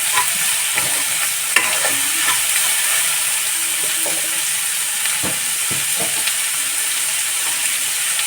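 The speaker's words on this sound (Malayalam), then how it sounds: "എന്നിട്ട് നന്നായിട്ട് ഇളക്കി കൊടുക്കണേ അതിനകത്തേക്ക് കുറച്ച് ഉപ്പിട്ട് കൊടുക്കാം" Clam roast fries in a pan with a steady hiss as a spoon stirs and scrapes through it in irregular strokes, close and fairly quiet, with no voices.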